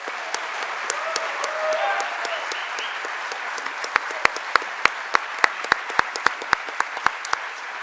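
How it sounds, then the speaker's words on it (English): An audience at a policy debate applauds the panelists and moderator, a sustained bed of clapping with sharp, close individual claps standing out increasingly toward the end, with some voices beneath. "One more round of applause, please"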